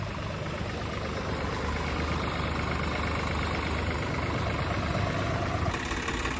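Tractor engine running steadily at low idle as the vehicle is turned around on a farm road, a dense continuous rumble close by with no talk.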